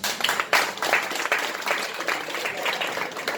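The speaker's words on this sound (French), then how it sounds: "Et je vous demande de les applaudir." Steady applause from an audience at a political support meeting in David, a dense wash of many hands clapping that holds for several seconds at moderate volume.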